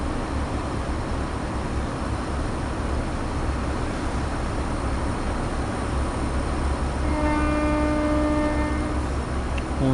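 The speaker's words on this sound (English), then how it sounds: "Horn sounds good from the inside as well as the outside." Train horn of a class 385 electric train in the Train Sim World 4 video game, Fife Circle Line: steady rolling cab rumble throughout, with a sustained two-tone horn blast sounding over it near the end.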